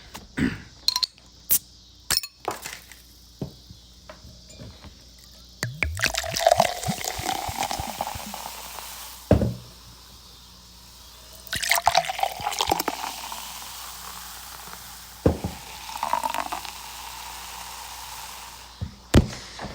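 An IBC root beer bottle is handled and opened, with sharp clinks and taps of glass, followed by liquid pouring and fizzing in several bursts, close and clear with no talking.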